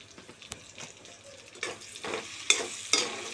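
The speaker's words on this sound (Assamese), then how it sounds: "আৰু এয়া আলু হাফ ফ্ৰাই হৈ গ'ল ধুনীয়াকৈ" Potatoes seasoned with salt and turmeric are half-fried in a pan. A soft sizzle runs under sharp scrapes and clinks from stirring that grow louder toward the end.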